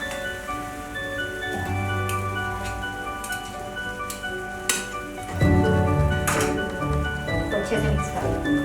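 Fresh cream being stirred into a white sauce for creamy BBQ chicken pasta, with soft wet squishing and occasional spoon clinks over a steady kitchen hum, growing thicker and louder in the second half.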